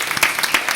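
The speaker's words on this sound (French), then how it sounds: "Allez, applaudissements s'il vous plaît pour Émilie." A studio audience at a comedy show applauds, a short burst of dense clapping, close and fairly loud.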